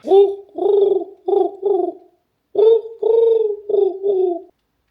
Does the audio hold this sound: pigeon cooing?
yes